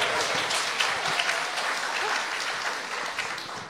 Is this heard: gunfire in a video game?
no